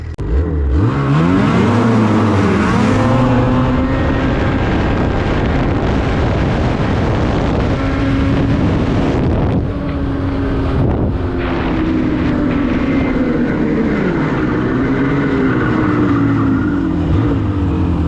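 A snowmobile fitted with an Ultimax belt accelerates hard on a speed run, its loud engine whine climbing in pitch under heavy, constant wind rush at the microphone, with no talk.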